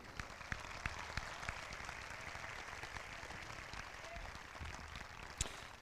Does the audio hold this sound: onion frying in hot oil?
no